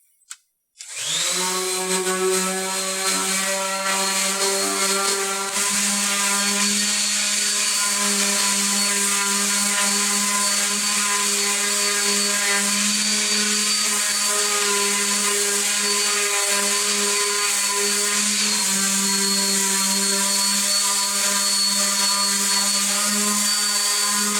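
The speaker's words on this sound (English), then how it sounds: "It's a lot easier to sand the pieces individually than to try to sand the piece of furniture once it's put together." A power sander works over pieces of reclaimed wood for a simple end table, giving a loud, continuous, close-up motor whine with a steady pitch that barely changes throughout.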